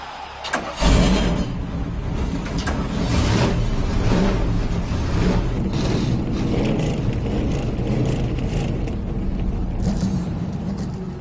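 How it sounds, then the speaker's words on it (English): Race car engines start up together and settle into a loud, continuous idling roar with revs rising and falling, with no talking over it. "Gentlemen, start your engine!"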